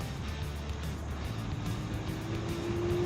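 An electric scooter, the Hiley Tiger Supra running on its rear motor only, pulls away from a standstill: steady broadband motor and wind noise, with a low whine that climbs in pitch late in the run.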